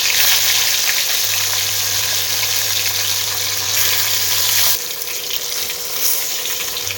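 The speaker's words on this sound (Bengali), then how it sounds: "এদিকে মাছটাও ভাজা করব।" Fish fries in a little oil, giving a loud, continuous sizzle with a low steady hum underneath that drops away near the end.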